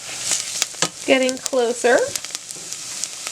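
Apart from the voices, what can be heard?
scraping and stirring a blonde roux in a pan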